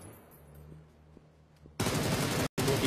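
Gunfire in a PUBG esports match: after a quiet stretch, a sudden dense volley of rapid shots bursts in loud and close, breaks off for an instant, then resumes to the end.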